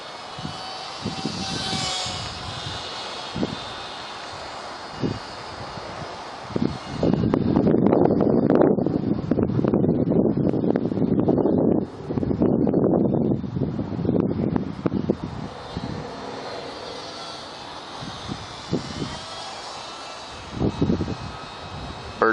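A WLToys Cessna-182 F949 three-channel RC plane flies in high wind, its small electric motor whining and swelling as it passes closer, with heavy wind buffeting the microphone throughout.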